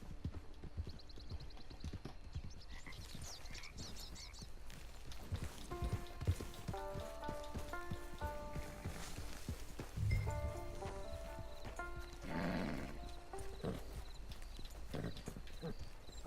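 Horse hooves clop in Red Dead Redemption 2 Online, close and steady over rain and soft game music, with a brief whinny partway through.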